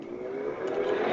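A game car from a customized Unity default car controller gives a steady, rising engine whine as it revs, loud and continuous, with no talk over it.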